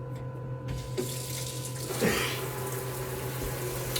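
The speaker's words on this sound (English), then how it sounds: "Put some water in this." A tap turns on and water pours steadily into a container, a soft rushing stream that continues to the end amid faint room hum.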